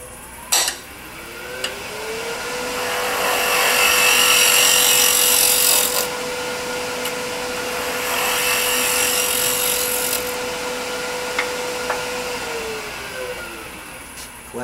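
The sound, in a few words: woodturning lathe taking a skim cut on segmented wood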